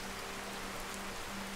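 Steady rainfall in the video game Skyrim, a soft, even hiss of drops with a faint low hum beneath, continuous and unvarying, with no voices.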